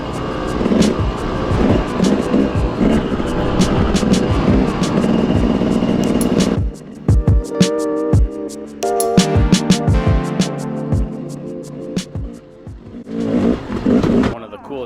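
A dirt bike riding a rocky single-track trail in Utah, the engine droning loud and close, then revving in bursts with clattering knocks as the terrain gets rough.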